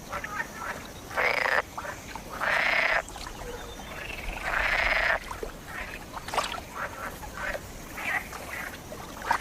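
Male green frogs croak in loud, buzzing bursts, several calls in a row with short pauses between, over a soft outdoor background.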